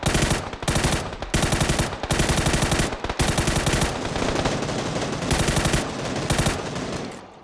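Rapid automatic gunfire in the PUBG video game, long loud bursts of shots separated by brief pauses, continuous and close, with no talking.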